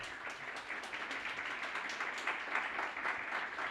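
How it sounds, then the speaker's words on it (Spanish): Applause from a gathered audience at a community event about migrant integration, continuous mid-distance clapping, fairly quiet and even throughout. "darle un fuerte aplauso a José, a Gabriel"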